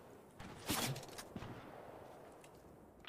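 A few faint gunshots pop in a video game. A short burst comes early and a couple of scattered shots follow, distant and thin against a quiet background.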